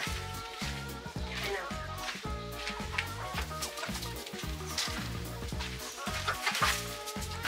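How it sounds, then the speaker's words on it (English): Chickens, including brown hens, clucking inside a coop, a steady busy chorus of overlapping clucks and calls, fairly close, with some human voices faintly mixed in. "Carlie, you are not a chicken whisperer"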